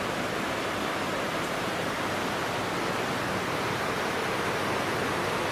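A river flows in a continuous broadband hiss, steady and fairly close, with no voices or other sounds breaking through.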